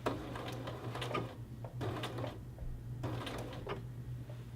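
A home sewing machine stitching a men's shirt collar band to its facing, with a quiet mechanical patter that runs in short bursts and brief pauses over a low motor hum, heard close and without speech.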